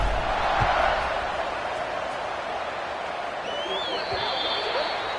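A football stadium crowd at a Louisville vs Nebraska game roars steadily as the kickoff unit takes the field, a broad sustained cheer that swells early and then holds as a loud wash of noise.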